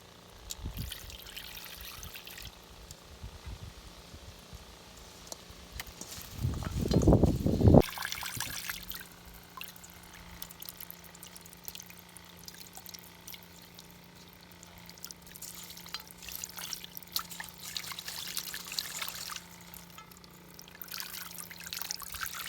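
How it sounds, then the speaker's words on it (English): A Shurflo water pump pushes water out in an off-grid vegetable garden, a soft trickling flow that swells into a louder, splashing pour briefly before settling back to a faint steady run. "Not a bad flow for a sure flow water pump."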